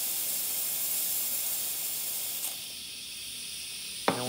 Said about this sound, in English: Now you have a lot of steam pressure, so this is great.